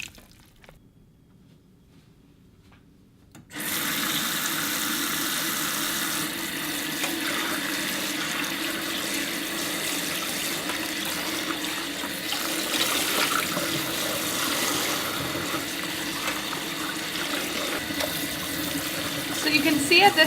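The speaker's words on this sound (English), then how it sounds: "So now on cold water, I'm gonna rinse out as much as I can." Cold tap water runs steadily over grape-dyed fabric being rinsed in a sink, a continuous close splashing rush that starts abruptly after a brief quiet moment and holds for the rest of the clip.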